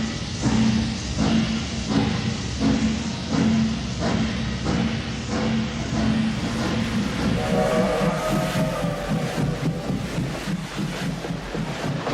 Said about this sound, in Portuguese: O trem foi parando aos solavancos e rangidos estridentes